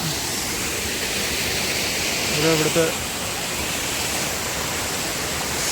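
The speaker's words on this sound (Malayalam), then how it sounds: "അങ്ങനെ നമ്മൾ വാട്ടർഫോൾസ് എത്തിയിരിക്കുകയാണ്" A small Kollamkolli waterfall in Nilambur with low water gives a steady broadband rush, constant and moderately near, while a voice briefly speaks over it.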